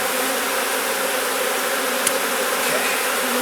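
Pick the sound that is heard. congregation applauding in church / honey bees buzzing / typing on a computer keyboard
honey bees buzzing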